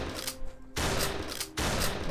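Gunfire from a weapon in the Christmas-themed shooter game No More Snow, with Santa wielding guns: loud, dense bursts of shots in two sustained volleys separated by a short gap, with no talking.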